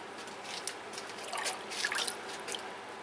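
Water poured from a watering can onto a plant pot held over a bucket, a soft steady trickle and dribble with faint drips, close and quiet.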